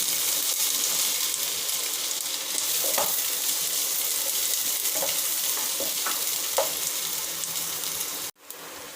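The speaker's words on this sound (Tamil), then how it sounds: "இப்போ வந்து வெங்காயம் வதங்கிடுச்சு." Chopped onions sizzle in a pan of hot oil with garlic while noodles are being made, a loud, steady hiss close by, broken by a few soft stirring scrapes before cutting off near the end.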